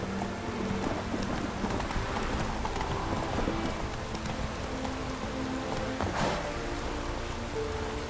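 Roach, the horse in The Witcher 3, gallops with a steady run of hoofbeats under falling rain, fairly quiet, with a rumble of thunder near the end.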